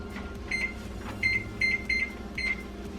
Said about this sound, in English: so when that beeps, then I know that the coffee's ready